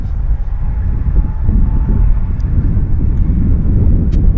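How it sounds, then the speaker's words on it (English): Embraer 195 E2 jet at Vancouver Airport turning onto the active runway, a loud low engine rumble and wind noise, steady and continuous. "Embraer turning on to active. It's a 195 Embraer E2"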